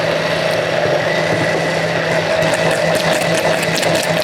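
A blender whirs steadily while oil is poured in to make mayonnaise, giving a continuous high, buzzing motor drone with slight mechanical rattle, close and constant throughout with no voices.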